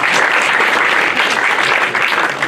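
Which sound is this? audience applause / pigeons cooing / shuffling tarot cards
audience applause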